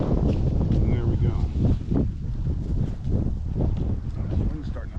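Wind gusting outdoors around a row of winter beehives, a steady loud rumble buffeting the microphone throughout, with a person speaking over it.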